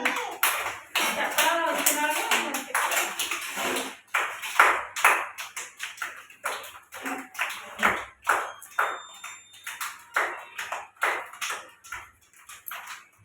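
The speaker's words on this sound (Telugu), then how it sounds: "క్లాప్స్ కొట్టాలి మీరు" Small children at an anganwadi clap their hands in a run of sharp, uneven claps, loud and close, with an adult voice urging them on between bursts.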